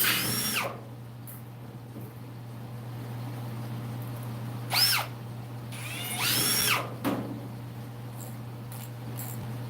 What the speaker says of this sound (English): it's boring drilling holes